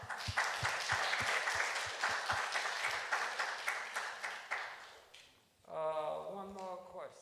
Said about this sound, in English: And one more round of applause for Dr. White.